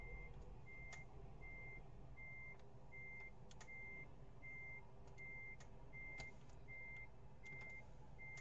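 A truck reversing in Euro Truck Simulator 2, with evenly spaced electronic reversing beeps repeating about twice a second over a low engine rumble and occasional clicks, all fairly faint.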